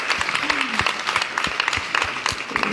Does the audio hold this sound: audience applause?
yes